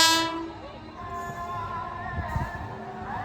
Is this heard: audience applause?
no